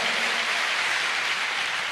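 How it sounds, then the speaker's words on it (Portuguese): Church congregation clapping together in a sustained burst of applause, dense and continuous for a couple of seconds with no voices on top. "Dá uma salva de palmas ao Senhor."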